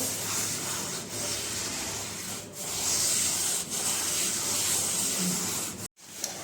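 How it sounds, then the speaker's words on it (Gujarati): A nonstick griddle is scrubbed with cleaning liquid in a home kitchen, making a loud, continuous gritty rubbing hiss in long strokes that break off briefly near the end. "આમાં આપણે પહેલાં લિક્વિડ નાખશું આવી રીતના આપણે આને ઘસી લઈશું"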